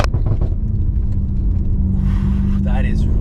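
BMW F90 M5 engine under hard driving, a loud steady low drone and rumble that holds throughout, with tire and wind noise rising toward the end.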